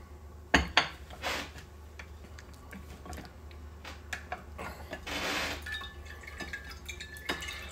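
Cold brew coffee drains out of a bottle in scattered drips and trickles, with a few sharp clinks of glass or metal nearby, faint and close.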